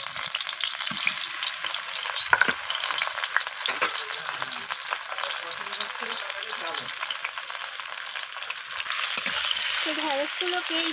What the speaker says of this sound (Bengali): এখন আমি মাখিয়ে রাখা ঢ্যাঁড়সগুলোকে তেলের মধ্যে দিয়ে দিচ্ছি